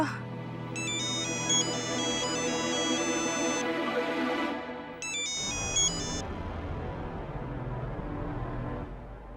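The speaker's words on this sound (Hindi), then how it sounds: "फोन उठाओ बेटा।" A phone ringtone plays a repeated electronic melody twice with a short gap, over a low background hum and faint voices.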